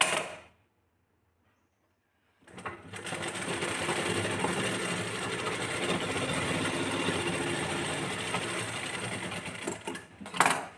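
Close sewing machine stitching a blouse seam runs in a steady, fast mechanical whir for about eight seconds after a short silence, then stops with a small clunk.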